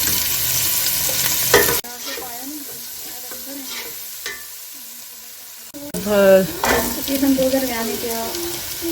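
Green garlic and green chilies sizzle and crackle in hot oil while being stirred, with clattering of a utensil against the pan and brief louder bursts.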